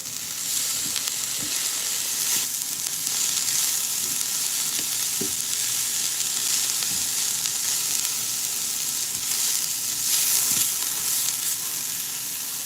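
Meat and onions frying in a pan as egg roll filling give a steady, close sizzle throughout, with occasional soft stirring scrapes and no voices.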